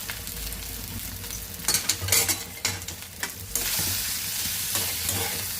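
Tomato ketchup is stirred into a pan of butter garlic chicken, giving a hot sizzle with scraping and clattering stirring strokes in the middle, then a louder, fuller sizzle that swells toward the end, close by, with no voices.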